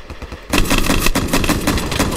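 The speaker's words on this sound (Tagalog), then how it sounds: "Ang lalakas ng baril nila." Loud rapid gunfire from soldiers in Minecraft, a burst of repeated sharp shots in a fast irregular rhythm that starts abruptly and continues without pause, no talking.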